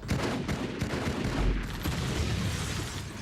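Rapid dual-wielded gunfire in the Halo 2 beta, dense overlapping bursts of shots rattling continuously at close range with a heavy boom near the middle and no voices.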